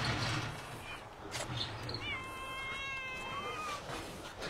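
Cats in the cat area of a pet hotel meow, with one drawn-out, wavering, plaintive call near the microphone in the second half, heard over room noise and some faint voices.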